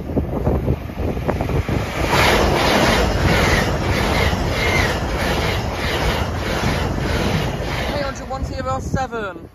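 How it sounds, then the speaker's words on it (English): A long-distance passenger train on the London King's Cross to Aberdeen service thunders close past a level crossing, a loud continuous rush and rumble with wind buffeting the microphone, fading near the end. "Here's the Aberdeen train, London King's Cross to Aberdeen."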